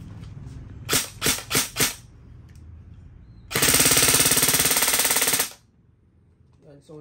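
An E&C 620 MK18 airsoft rifle test fires: four quick separate shots, then a loud rapid full-auto burst of about two seconds, close up, followed by a few faint clicks.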